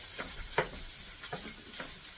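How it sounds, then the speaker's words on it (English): Hamburger meat stirred with onions and garlic in a frying pan, a soft steady sizzle under a few light scraping strokes of a spoon, fairly quiet and close, with no talking. "Get it all mixed in with that, with the onions and garlic."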